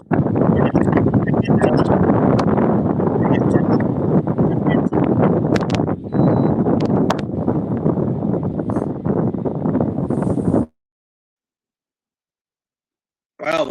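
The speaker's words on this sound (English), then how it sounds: "wow, the wind really picked up there" Strong wind buffeting the microphone outdoors, a loud continuous roar with gusty surges that cuts off abruptly near the end, with voices faintly mixed in.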